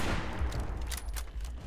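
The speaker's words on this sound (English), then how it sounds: "you're shooting so fast, you're firing too" Rapid gunfire in the video game Fallout 76 comes as a quick burst of sharp shots with a boomy low end, fairly loud and close, no speech over it.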